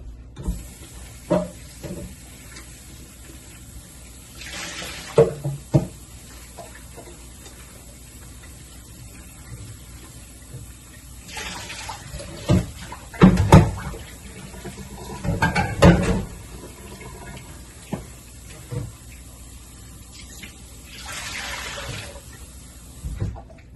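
Tap water runs in intermittent bursts over okra being washed in a kitchen sink, with splashing surges around a few moments and quieter handling clatter between them.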